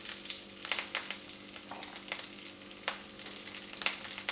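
Curry leaves and dried red chillies crackle in hot oil in a pan, a steady sizzle broken by sharp spits and pops, with a faint background hum.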